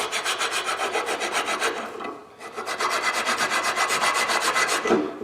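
Hand file rasping rust off a Pontiac G6 GT front wheel hub, a fast regular run of rough scraping strokes, close and loud, pausing briefly midway before the rhythmic filing resumes.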